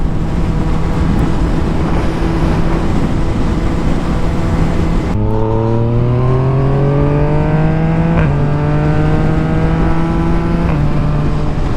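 A Yamaha MT-09 motorcycle rolls on the throttle in sixth gear, heavy wind rush giving way to a loud, smooth engine note that climbs steadily in pitch, close to the rider, with no speech.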